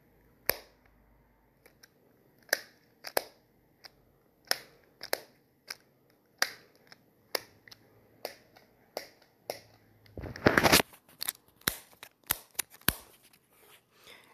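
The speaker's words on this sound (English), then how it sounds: "the stupid clicky is not as clicky as real AirPods. The lid on it is super chintzy." Cheap i12 TWS earbuds charging case lid snapped open and shut again and again, giving a string of sharp, light plastic clicks at an uneven rhythm, close and fairly quiet, with one brief burst of rustling handling partway through.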